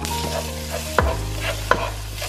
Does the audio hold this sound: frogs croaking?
no